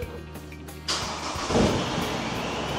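An Isuzu D-Max X-Terrain's engine starts: a low idle hum, then a sudden catch into a louder running engine that swells briefly before settling into a steady, close, rough idle.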